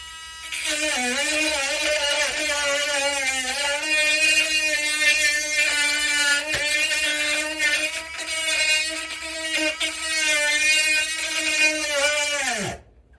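Dremel rotary tool grinding into a guitar headstock, a loud sustained high-pitched motor whine that wavers slightly as it bites into the wood, then stops abruptly at the end.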